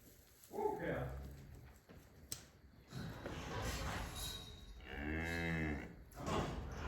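Cows on a farm moo loudly in a barn, with one long, drawn-out low moo standing out near the end and a person calling to the animals in between.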